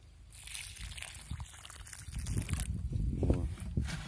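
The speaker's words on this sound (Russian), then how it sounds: "Поливаем лунку водой." Water sloshes and trickles as it is poured into a planting hole dug for honey melon seeds in a garden bed, a soft wet splashing that swells over a few seconds, close and moderately loud.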